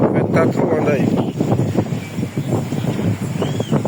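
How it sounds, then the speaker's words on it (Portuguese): Strong wind roars across the deck of an anchored boat at sea, a steady broadband rush with gusting swells, mixed with creaks and clatter and a voice talking intermittently over it. "O vento tá troando aí."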